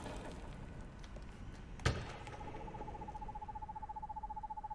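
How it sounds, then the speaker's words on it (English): Repeated owl hoots from a horror video game set in darkness, a steady rhythmic series starting after a dull thump and continuing to the end, moderately loud over a low ambient rumble. "Oh, it's a bird."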